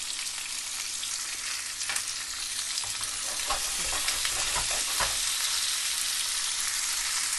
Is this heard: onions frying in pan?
yes